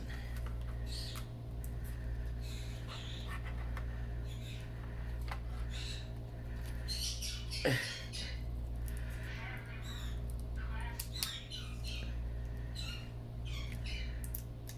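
Indoors, a pet bird lets out occasional squawks and chirps over a constant low hum, with one sharper sweeping call standing out midway through the stretch.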